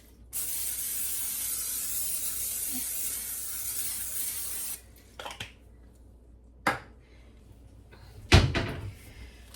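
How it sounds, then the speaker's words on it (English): A steady, close hiss of cooking spray coating a 9x13 baking pan lasts about four seconds, followed by a few sharp knocks and a clatter. "So I have a 9x13 here. I am going to spray it."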